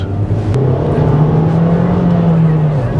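A 2025 VW Golf with a 1.5 engine drives along a UK road, its steady engine drone rising slightly in pitch then easing, heard loud from inside the cabin with a person talking over it.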